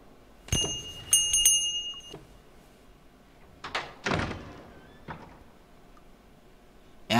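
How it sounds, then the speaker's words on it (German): A bell rings out in the adventure video game Book of Unwritten Tales 2, two bright metallic strikes followed by thuds and a door-like knock, moderately loud over a low background hum, with no talking. "Das Schöne an der Glocke, Jorge kann mich nicht ignorieren."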